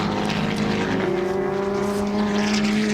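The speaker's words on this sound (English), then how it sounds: "Listen to the V8 just really humming as he comes down into Caltex Chase." A V8 touring car roars down into Caltex Chase at the 1989 Bathurst 1000, its engine a loud, sustained drone that climbs slightly in pitch as it holds throttle, with no voices over it.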